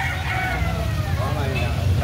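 Chickens at a poultry market in Cebu, with a rooster crowing and some clucking under steady crowd chatter and background engine noise.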